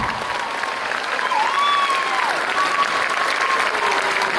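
Loud, steady applause from a school audience after a student production of The Sound of Music at Father Agnel School in Noida, a dense wash of clapping that carries on unbroken with a faint whistled tone threading through it.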